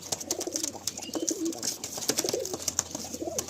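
Pigeons cooing in a full loft, with repeated low coos and rustling wing flaps, several birds calling close by.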